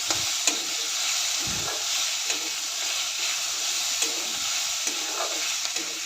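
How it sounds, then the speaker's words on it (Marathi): Cumin seeds and ridge gourd chutney ingredients dry-roasting in a pan, giving a continuous bright hiss with periodic stirring scrapes, close and steady. "एक चमचा जिरे टाकते म्हणजे सर्व व्यवस्थित भाजले जातील"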